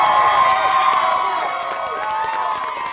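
An election night crowd cheers and whoops loudly at a campaign rally, a dense sustained roar of many voices that eases slightly toward the end.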